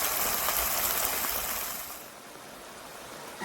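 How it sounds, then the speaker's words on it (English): Water poured into a cooking pan for pumpkin leaves with coconut oil, a steady splashing hiss that runs loudly for about two seconds before tapering into a quieter wash. "So we'll add some water"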